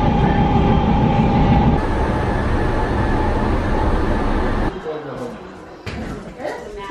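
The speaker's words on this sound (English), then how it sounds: "Going to work. I take the train." Loud rumble of a BART commuter train running on rails with a steady hiss, then the noise drops away as it slows, leaving quieter clatter.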